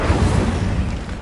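The Incendio fire spell goes off in Hogwarts Legacy on PS5 as a loud, low, rumbling burst. It sustains a roaring, explosive rush for about a second before easing slightly.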